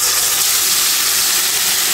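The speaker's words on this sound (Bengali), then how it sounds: "এখন ম্যারিনেট করা মুরগিটা পুরাটা ঢেলে দেব।" Marinated chicken hits hot oil in a kadai and sizzles with a loud, steady, close hiss, with no voices.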